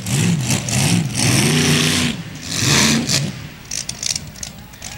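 A race car engine with engine problems revs loudly in rising and falling surges, then drops away, leaving quieter rumbling and a few faint knocks.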